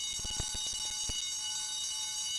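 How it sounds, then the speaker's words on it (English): A ringing alarm bell in the video game Spider-Man 2 carries as a steady, bright metallic ring, while low thuds and clanks sound in the first half and fade out. "Guess I'd better check out that alarm."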